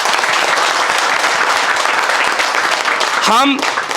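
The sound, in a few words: class audience applause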